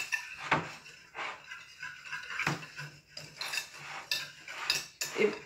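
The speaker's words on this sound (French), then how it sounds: "on va bien mélanger tout ça" Dry ingredients for American-style pancake batter being mixed in a bowl, a utensil clinking and scraping against the sides in irregular close strokes with brief gaps.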